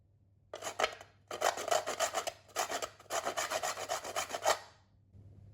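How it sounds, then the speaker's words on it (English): Whole nutmeg is grated for a gluten-free carrot cake, giving four bursts of close, dry rasping scrapes in quick repeated strokes, separated by short pauses, then a faint trailing rub. "So I'm using whole nutmeg and grating that up because it just releases more flavour"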